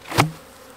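Honey bees at an opened hive during spring nuc work, a single brief buzzing burst rising close by and then fading quickly into quiet.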